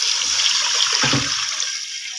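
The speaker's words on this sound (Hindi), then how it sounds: "ये जी इसके अंदर हम पानी डालेंगे" Water pours steadily into a pot with a continuous hissing splash, a gurgle rising briefly midway as the stream fills it.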